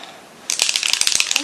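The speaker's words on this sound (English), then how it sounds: "I'll give it a good shake" An acrylic spray paint can shaken hard, a close, loud burst of rapid rattling and clacking that starts suddenly after a short quiet pause and continues in quick uneven strokes.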